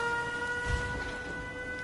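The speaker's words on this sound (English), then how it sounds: "Siren activates, and all these doors fall." A tripwire in the video game Fallout 4 sets off a steady alarm siren, a loud sustained electronic drone with unwavering tones running the whole time, alone with no speech.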